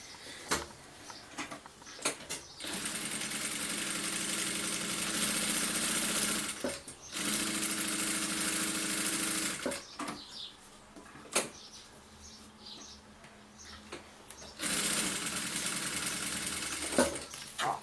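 A sewing machine quilts layers of fabric for a handbag, running in long steady whirring stretches broken by pauses and sharp clicks and taps as the work is adjusted, close and with no talking.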